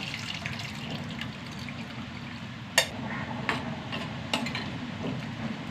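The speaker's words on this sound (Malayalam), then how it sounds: "കുറച്ചും കൂടി വെള്ളം ഒഴിച്ച് കൊടുക്കാം" Water trickles and splashes softly into a pot, with a few light clinks of utensils, quiet and close, no voices.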